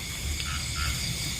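Low, throaty frog croaks repeat in a steady pulsing rhythm against a soft background hiss, fairly close and moderately loud.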